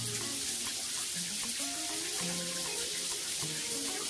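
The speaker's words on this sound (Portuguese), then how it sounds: "Deixa correr a água." Water pours steadily through a Lorenzetti Top Jet electronic electric shower, opened to clear air from the pipes. The flow makes a loud, continuous close-up rush with gurgling and spattering.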